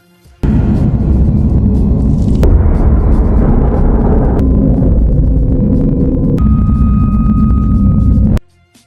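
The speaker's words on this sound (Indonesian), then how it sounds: "tiba-tiba sisi lain bagian kapal mengalami ledakan" A spaceship explosion in a science-fiction film: a loud, sustained roaring blast with deep rumbling, shifting in tone through several abrupt changes before cutting off sharply; no voices.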